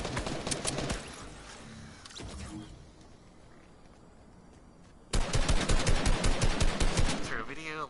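Gunfire in the video game Fortnite Battle Royale, short bursts of rapid shots cutting in and out early, then a loud dense stretch of repeated firing near the end, with players talking over it.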